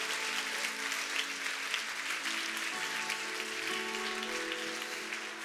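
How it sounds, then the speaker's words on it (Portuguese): Congregation clapping in a church service, steady sustained applause filling the room with musical tones from instruments or a keyboard beneath it, no talk over it. "Uma salva de palmas com toda a sua força."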